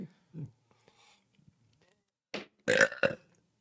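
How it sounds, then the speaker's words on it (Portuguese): A deliberate, forced burp rings out loudly near the end, after a few quiet murmurs and breaths, with a brief second belch burst close behind it. "Eu consigo arrotar a hora que eu quiser"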